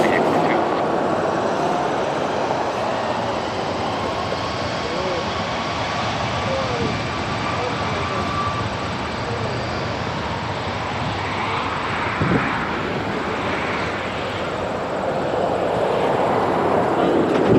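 Caribbean Airlines jet taking off from runway 23 at Toronto Pearson (YYZ), a continuous loud roar of engines building and holding steady, with faint radio chatter and wind noise mixed in.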